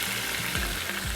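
Tomatoes and a splash of water hit a pan of browned onions for a butter chicken biryani masala, setting off a steady, close, continuous sizzle and bubbling with faint stirring.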